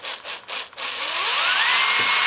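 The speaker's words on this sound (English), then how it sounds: "Then I'm going to pre-drill," A power drill pre-drills holes in clamped wood pieces, a few short bursts of whirring followed by a sustained, loud, rising motor whine as the bit bores in, heard up close.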